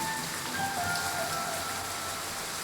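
Steady rain falls in darkness at an old station, a dense, even hiss of drops on surfaces that continues unbroken and fairly loud throughout, with no voices.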